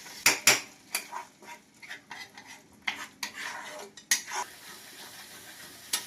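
Cumin and coriander powder being stirred into whisked sour yogurt in a bowl, irregular clinks and scrapes of a spoon against the dish, close and fairly quiet, with pauses between strokes.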